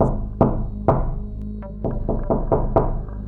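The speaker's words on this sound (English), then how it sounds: "Knock knock." Door knocking as a horror-story sound effect: a series of about eight dull, resonant knocks in an uneven rhythm over a low background drone, close and fairly loud, with no voices.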